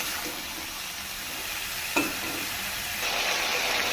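Vegetables frying in a pan give off a steady, close sizzle with light stirring and one short clatter partway through, the hiss growing slightly louder toward the end.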